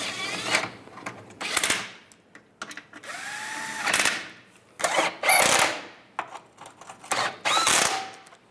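A power tool tightens steering rack bolts on a 1998–2010 Volkswagen Beetle in several short whirring bursts separated by pauses, close up and with no talking.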